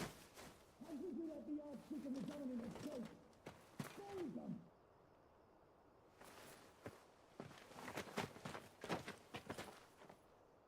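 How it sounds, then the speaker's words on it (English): A bird in Final Fantasy XVI gives a warbling, cooing call in a few short bursts, with soft footsteps and game ambience around it. "Freaky bird."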